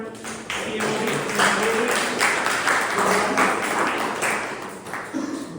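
Sustained applause from an audience at a Toastmasters club meeting, a continuous bright patter of many hands clapping for several seconds before it begins to thin out.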